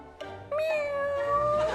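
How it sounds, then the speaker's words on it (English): A Sphynx cat gives a single drawn-out meow, close and clear, rising slightly and holding steady for about a second. "This is Lola, and she's a Sphinx cat."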